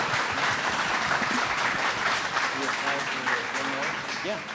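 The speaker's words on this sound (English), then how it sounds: "please give Corinne a big round of applause" A live crowd at a horror-themed storytelling show applauds a performer, a steady round of clapping with voices and cheers mixed in throughout.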